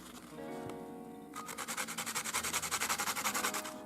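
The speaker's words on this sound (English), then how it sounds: "Sandpaper." Charcoal pencil rubbed back and forth on sandpaper to sharpen it, a quiet scrape at first, then a steady run of rhythmic rasping strokes, close and alone.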